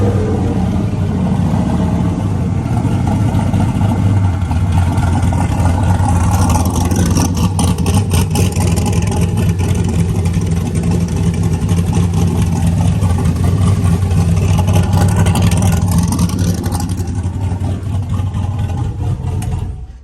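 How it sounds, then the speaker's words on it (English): A truck engine runs steadily after start-up, a loud, dense low rumble with a constant idle drone that persists for the whole stretch, no voices over it. "And then when you fire the truck up"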